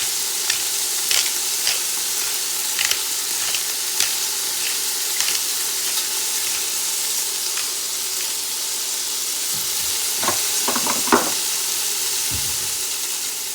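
Vegetables fry in a pan with black pepper, giving a steady, even sizzle throughout, broken near the end by a few scraping, clinking stirs.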